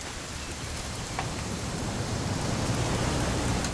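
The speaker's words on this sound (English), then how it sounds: "It's gonna rain the whole weekend, isn't it?" Steady, dense rain hiss in the video game What Remains of Edith Finch, fairly loud and constant, like heavy rainfall on surfaces, with no voices.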